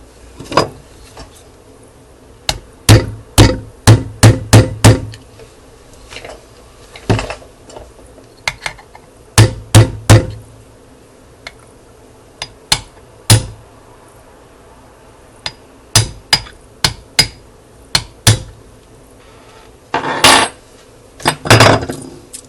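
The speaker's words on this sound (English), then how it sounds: "I'm just going to go ahead and hammer this back in" Sharp metallic taps ring out in quick clusters, then pause, as a small hammer strikes a part into a Smith & Wesson M&P 9c pistol frame at close range.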